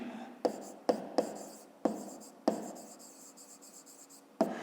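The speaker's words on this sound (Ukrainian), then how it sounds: "Ну, давайте це запишемо в другому завданні. Пишемо." Pen or pencil writing on paper during a 5th-grade math lesson, with sharp taps and scratchy strokes in irregular bursts, close and clear, with no talking.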